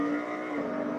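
Race car engine revving hard at Spa in the Assetto Corsa racing game, a loud, sustained high-pitched drone held steadily through one brief second.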